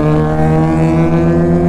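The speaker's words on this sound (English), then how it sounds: "that was the exhaust that was on my 300" Motorcycle exhaust on a Suzuki GSX-R 300 gives a loud, close, steady droning note with a strong low hum, heard alone for under two seconds.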